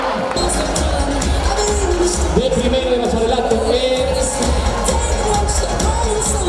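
A school carnival crowd cheers and claps continuously after a performance, a dense, steady wall of noise while an announcer speaks over the top.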